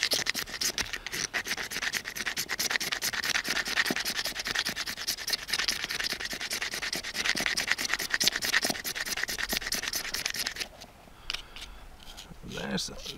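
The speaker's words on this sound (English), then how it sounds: "Make some shavings" A sharp edge scrapes wood shavings for firestarting, a fast steady rasping scratch close up that runs for about ten seconds and then stops, followed by a few scattered softer scrapes.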